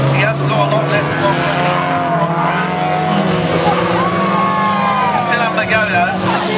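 Rookie banger racing cars at Foxhall's Firecracker 2011 roar around the track in a continuous engine drone with rising and falling pitch, while a commentator talks over them throughout.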